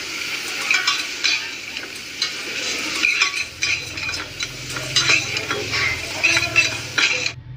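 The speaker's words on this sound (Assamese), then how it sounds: "অকণমান দিম হালধি পাউডাৰ আৰু লগত দিম ধনিয়া পাউডাৰ তো এইখিনি গোটেই ধুনীয়াকৈ ভাজি ল'ম" Turmeric and coriander powder sizzle in hot oil for paneer butter masala while a spoon stirs and scrapes the pan in uneven bursts, with occasional metallic clinks.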